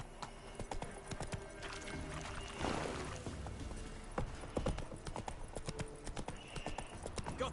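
Roach, Geralt's horse in The Witcher 3, gallops with rapid, rhythmic clip-clopping hoofbeats over faint ambient game sounds.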